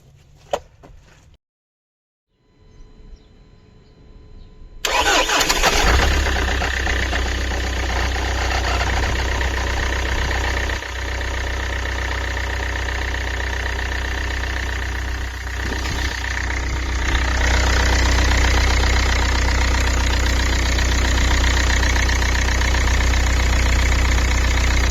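A Chrysler PT Cruiser CRD diesel, mid-service, cranks briefly after a quiet moment, then catches and settles into a loud, steady clattering idle close by, the tone deepening slightly toward the end.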